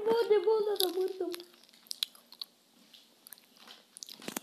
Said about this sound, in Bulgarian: Хора, питате защо мляскаме. Ядем пуканки.